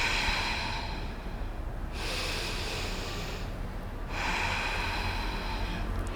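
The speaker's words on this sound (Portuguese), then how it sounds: "Inspira desde baixo, solta ao contrário." Deep breathing exercise with slow, audible inhales and exhales, three long airy breaths in a steady rhythm, close and fairly loud, with no talking.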